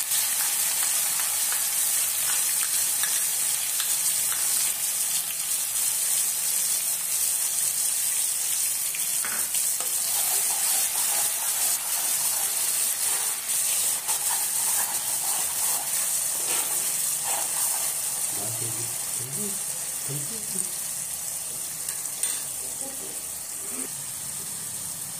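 Ground red chili and garlic paste frying in oil for a tomato and red chili chutney, giving a continuous, even sizzle with occasional stirring clinks that lasts throughout.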